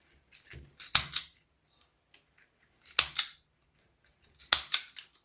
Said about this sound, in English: you can use just an old pair of scissors to cut the zip tie tails